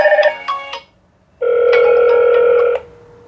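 A smartphone rings loudly with an incoming call from an LTS IP intercom, a short bright tone burst followed by a pause and then one long sustained ringtone, close and clear with no talk.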